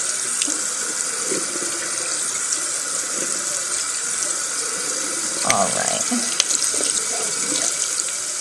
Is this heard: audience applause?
no